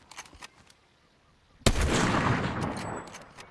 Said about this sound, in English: Fudge, I'm getting shot at.